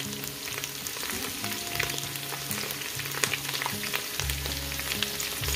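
Potatoes seasoned with salt, black pepper and garlic powder fry steadily in a pan, a continuous sizzle with scraping stir strokes throughout, no talk.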